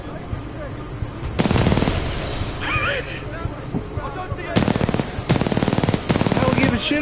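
Rapid automatic gunfire from the Titanfall 2 video game, heard as loud, close machine-gun bursts in several stretches with short pauses between them, over game sounds, while voices talk.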